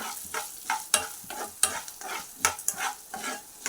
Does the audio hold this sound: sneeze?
no